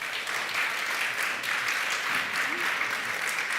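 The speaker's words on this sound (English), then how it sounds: "Please give them a round of applause." Audience applause for panelists at an afternoon conference session in a hall at Badia Fiesolana, a steady dense round of clapping that holds evenly throughout, moderately loud with no talk over it.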